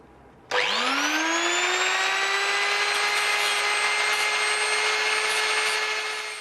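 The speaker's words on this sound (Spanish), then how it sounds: "ahora vamos a cortar la pieza esta para lo que va a ir a la llavera y lo vamos a cortar con la radial" An angle grinder cuts a steel piece for a hand-forged key in a blacksmith's forge. The motor whines up sharply from quiet, then holds a loud, steady, high-pitched drone close by until the end.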